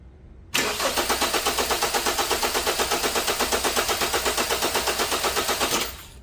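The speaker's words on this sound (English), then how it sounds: "And then we crank our engine and we get a measurement." A car engine cranks and starts during a starting system voltage drop test, the starter chugging in rapid even pulses for several seconds before catching and fading, loud and close with no talk.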